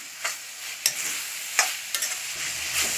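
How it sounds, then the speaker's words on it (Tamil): Spring onion, cabbage and capsicum stirred and fried in a pan for a minced meat spring dosa, a steady sizzle broken by several sharp scrapes of the spatula, close and fairly loud with no talk. "இதில் வந்து நம்ம இந்த ஸ்ப்ரிங் ஆனியனை சேர்த்து ஒரு 1 நிமிஷத்துக்கு நல்லா கிளறிட்டுருங்க."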